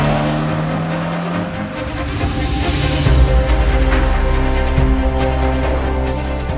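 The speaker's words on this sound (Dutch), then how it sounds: "Een lichte auto met lekker veel vermogen en een heerlijk uitlaatgeluid." A light, powerful Volkswagen Golf GTI's engine and exhaust hold a steady, loud drone that swells slightly midway as the car pulls, with no talking over it.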